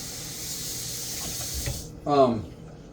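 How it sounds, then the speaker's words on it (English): Water running from a kitchen sink tap into a pot for cooking white rice, a steady hiss and splash that stops, followed by a brief clatter as the pot is handled. "let me hit it with some water real quick. Pensa. Right out of the sink"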